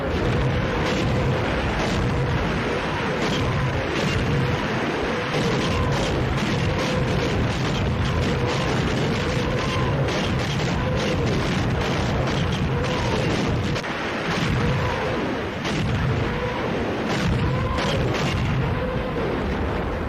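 Sound effects of a World War II artillery bombardment at Kursk roll on continuously, with dense booming blasts and rumbling explosions layered over one another without a pause.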